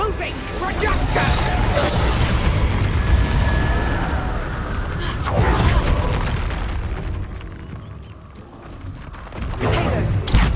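Confringo spell explosions in the video game Hogwarts Legacy, a series of loud booming blasts and rumbling bursts over several seconds, with a voice speaking throughout.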